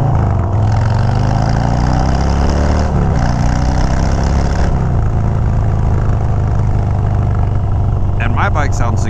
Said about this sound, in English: my bike sounds significantly better, but that's because I have TAP Performance mufflers